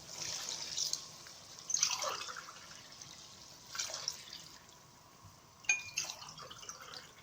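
Water splashes in short, soft pours into a cooking pot of chickpea rice, three or so quiet bursts separated by a calm, near-silent kitchen background.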